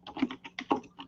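Typing on a computer keyboard: quick, close, uneven clusters of light clicks with no voices.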